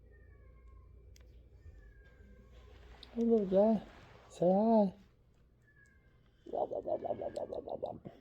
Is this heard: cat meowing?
yes